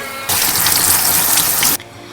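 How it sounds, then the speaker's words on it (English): Cooked pasta being rinsed under cold running tap water in a home kitchen sink, a loud steady gushing stream that starts abruptly, runs about a second and a half, then cuts off. "So I'm gonna go ahead and rinse that with some cold water."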